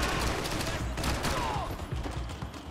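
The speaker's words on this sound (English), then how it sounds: "he shot the shit out of me" Dense gunfire from the video game Max Payne 3, played with realism mods, crackles in a continuous loud fusillade of rapid overlapping shots, with voices faintly under the din.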